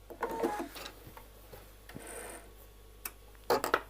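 A sewing machine back stitches a dress bodice seam with short bursts of rapid mechanical whirring and clicking, broken by quiet pauses and scattered ticks, close up with no talking.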